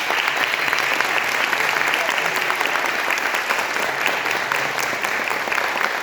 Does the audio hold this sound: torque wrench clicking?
no